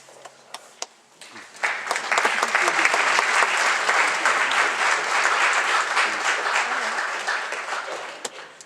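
A band concert audience gives sustained applause for the parents, rising after a few scattered early claps and holding steady through to the end, dense and fairly close, with little talk over it.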